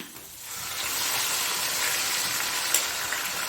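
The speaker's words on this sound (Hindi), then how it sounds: "अब इसमें डालूंगी चिकन" Chicken hits a hot pan and a bright, steady sizzle swells within the first second, then holds close and fairly loud, with a small clack near the end.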